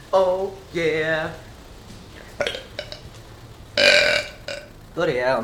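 Several loud, drawn-out burps from a man, separated by short pauses and a brief muttered voice, close to the microphone indoors.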